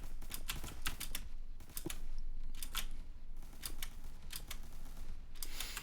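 A computer keyboard is typed on in quick bursts of clicky keystrokes separated by short pauses, fairly close and with no talking.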